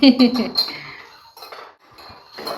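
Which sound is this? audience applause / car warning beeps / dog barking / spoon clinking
spoon clinking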